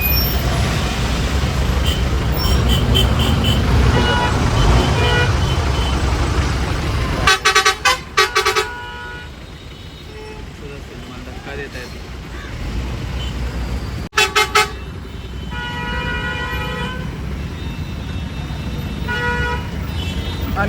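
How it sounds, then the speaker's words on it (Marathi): A road traffic jam with honking vehicles: a dense roar of engines and traffic, broken by bursts of repeated horn toots and a few longer blasts, all close and loud, with faint voices in the background. "आणि अशा तऱ्हेने ट्रॅफिक मध्ये अडकलेलो आहोत."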